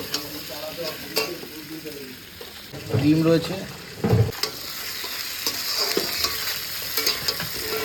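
Spices and potatoes fry in a pan while a utensil stirs and scrapes through them, a close sizzle with intermittent clatter under casual conversation.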